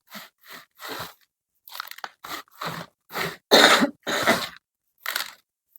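A series of short, sharp coughs in irregular bursts, close by and fairly loud, separated by brief silences.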